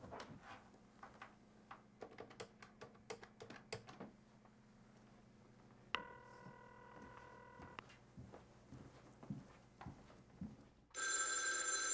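A telephone bell rings in short repeated bursts over a quiet room, followed by a sustained electronic tone on the line, then a harsh burst of noise at the end.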